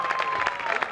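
Applause from a concert audience for a viola player, a steady, fairly loud wash of clapping that lasts the whole brief moment, with a faint sustained tone running underneath.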